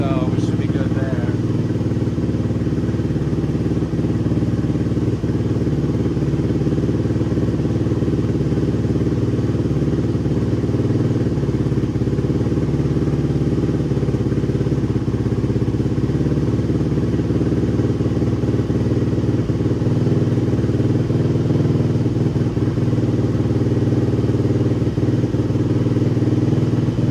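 An LTZ or DVX 400 ATV engine, just started during repair work, runs steadily and loudly in a rough, continuous idle with occasional clatter and thumps, heard close up throughout.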